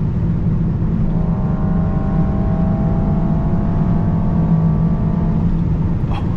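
Mercedes S63 AMG with an 802 hp V8 hybrid powertrain at high speed on the German Autobahn, a steady loud engine drone with wind and road roar throughout and a faint rising tone partway through.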